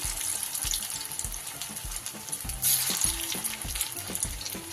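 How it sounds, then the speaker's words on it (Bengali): Soybean and cabbage pakoras fry in hot oil, giving a dense, steady, close-up bubbling sizzle that stays loud throughout and swells briefly near the middle. "এইগুলো আমি আবার একটু লম্বাটে আকারে করে ভাজব"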